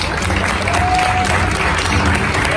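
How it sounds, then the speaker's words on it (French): Audience applause fills a hall at the Swiss Voice Tour singing contest semi-final, a steady, dense wash of many hands clapping together without pause. "Allez, plus fort, applaudissez bien fort."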